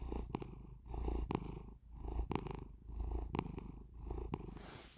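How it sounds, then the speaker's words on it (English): A cat purring on a lap, close and steady, with a rhythmic rise and fall as it breathes in and out, about five cycles, alone with no talk. "He loves my pets, and when he's purring,"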